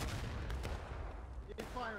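Musket volleys in the Civil War game War of Rights: a few sharp shots crack out over a constant battlefield roar, with a voice speaking briefly near the end.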